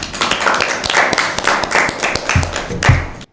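Applause for a quiz team at a school Bible quiz, a room of hands clapping in a lively, uneven patter with a few sharper thuds, fairly loud and close, ending abruptly.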